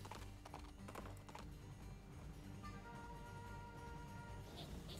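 Hooves clip-clop in a steady rhythm from a horse in the video game Princess Peach Showtime, heard under dense, continuous game music and background effects.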